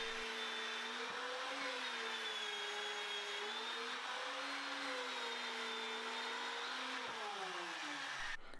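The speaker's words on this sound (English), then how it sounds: "I use my doweling machine to put some holes in the top of the legs" A doweling machine drills holes into the tops of oak table legs and the ends of an oak brace, giving a steady, close, loud motor whine that holds for about eight seconds with slight dips in pitch before cutting off.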